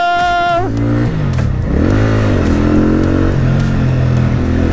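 A Benda Napoleon 450 motorcycle rides at close range, its engine note rising, dropping as it shifts, then revving up again in a steady, loud drone with no voices.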